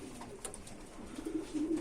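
Soft domestic pigeon cooing, a few low throaty coos rising near the end, with faint rustling in the background.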